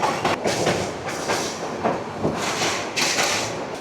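The Mahanagar Provati train out of Dhaka runs at middling speed on the rails, a loud onboard rumble with repeated rhythmic clickety-clack wheel beats and rattling carriage noise.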